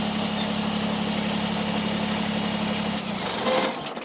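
A Kubota BX23S compact tractor engine idles with a steady, even drone close by, then the rpm drops and the note shifts lower and rougher near the end.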